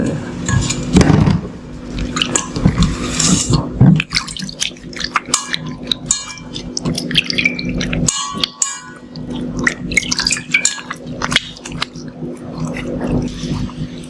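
Water rinses sesame and sweet almond oil makeup remover off a face, with irregular splashes, drips and wet handling noises, fairly close and loud, with brief pauses between bursts.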